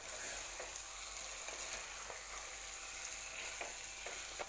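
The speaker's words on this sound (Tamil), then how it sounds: "இந்த மசாலா எல்லாமே சிக்கனோட சேர்ற மாதிரி நல்லா கலந்து விட்டுக்கலாம்." Marinated chicken is stirred into masala in a hot pan, giving a steady close sizzle and frying hiss broken by soft scraping strokes of the spoon.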